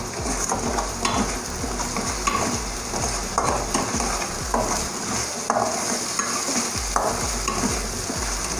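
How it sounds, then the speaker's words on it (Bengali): A spice paste for sweet paneer posto is stirred and fried in a pan, giving a loud, continuous sizzle broken by repeated scraping strokes of a spoon against the metal, with no voices. "এটাকে আমরা প্রায় 5 থেকে 7 মিনিট মশলাটাকে পুরো পেস্টটাকে কষে নেব একদম ভালো করে।"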